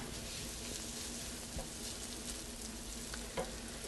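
Mushrooms and onions frying in a skillet for a steak sandwich, a steady close sizzle and crackle with a few soft stirring clinks, no talking.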